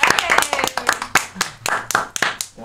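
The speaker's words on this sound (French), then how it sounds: "Ah, alors, applaudis." A small group claps unevenly at a live blind-date stream, with loud close hand claps in an irregular burst, mixed with voices talking over them.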